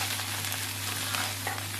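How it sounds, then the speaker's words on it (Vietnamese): Fried rice with egg, chicken and pickled vegetables being stir-fried, with scallions going in, sizzling steadily in a hot pan while a spatula scrapes and tosses it, close and continuous with no talk. "mình đảo làm sao để cho cái hành nó chín nốt là mình đem đi ăn được"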